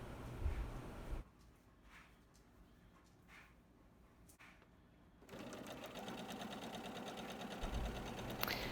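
A sewing machine stitches quilted fabric squares for a Christmas tree skirt, running in steady whirring bursts with a quieter pause in the middle, close by.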